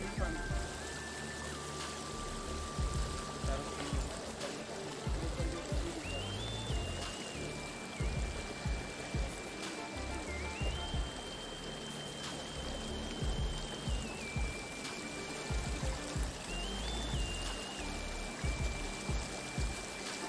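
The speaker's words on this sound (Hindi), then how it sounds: "कितना दूर दूर से ये पानी आ रहा है।" Icy glacier meltwater stream near Tiger Falls, Chakrata, rushing and splashing in a steady, continuous wash close by, with a faint tonal whine drifting over it.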